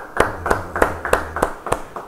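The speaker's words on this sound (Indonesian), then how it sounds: "Beri tepuk tangan yang baik buat Tuhan." Church congregation clapping in a slow, steady rhythm, about seven distinct claps spaced evenly, fairly close and moderately loud with no talking.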